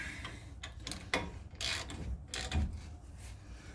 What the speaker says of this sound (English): Make sure I ratchet the right way.